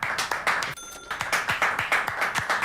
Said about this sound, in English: Oh wait, don't tell me everybody was actually clapping.